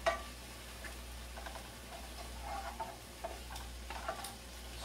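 Sausage is added to onions and stirred in a frying pan, giving a soft, steady sizzle with scattered scraping and tapping clicks from the stirring and no talk.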